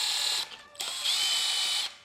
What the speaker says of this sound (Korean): 에어클리너에 이 볼트 두 개를 풀어서